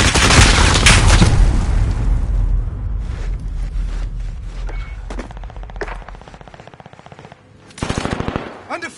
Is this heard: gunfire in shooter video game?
yes